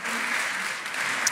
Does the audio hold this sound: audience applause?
yes